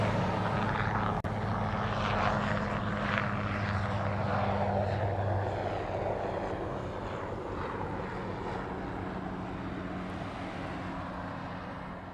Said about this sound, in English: Next one out on the reef runway is a 757.